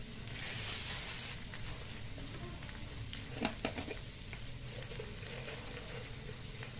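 Whole coriander seeds and cumin sizzle and crackle loudly in hot oil for a kadhi tempering, a continuous hiss with occasional pops and stirring sounds.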